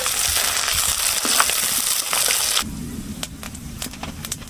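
Tilapia frying in oil makes a close, crackling sizzle for a couple of seconds, then settles into quieter, sparse pops and spits.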